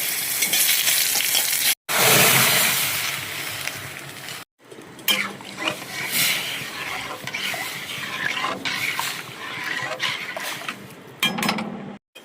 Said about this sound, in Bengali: তেল দিয়ে দিয়েছি, আর শুকনো লঙ্কা দিয়ে দিলাম, গোটা কালো সর্ষে দিলাম